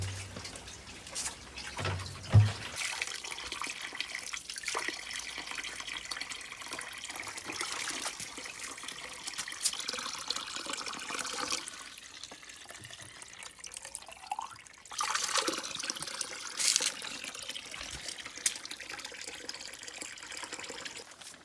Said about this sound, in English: This may not look very fancy, but it's a very good spring.